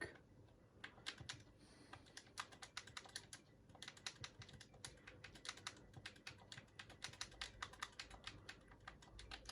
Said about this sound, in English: I'm gonna type something.